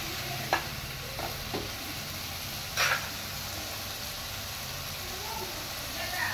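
Mushrooms fry in a pan for a curry as salt and chili powder go in, giving a steady hiss with a few scraping stirs and clinks, close and continuous.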